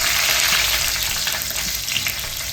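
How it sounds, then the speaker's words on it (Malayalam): Two chopped green chillies and curry leaves sizzle in hot oil in a pan, a loud, steady crackling hiss that runs without a break, with no voices over it. "ഇതിലോട്ട് 2 മുളകും മുറിച്ചിട്ട് കൊടുത്ത്, ചൂടാക്കിട്ട് ഒരു 2 കറിവേപ്പില ഇട്ട് കൊടുക്കാം."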